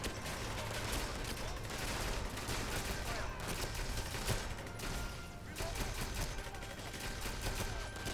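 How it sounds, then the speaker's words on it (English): Dense, continuous gunfire in the action game 007 Legends, overlapping shots and bursts crackling steadily throughout amid a busy, noisy firefight with faint speech underneath. "all these bullets and shit are flying"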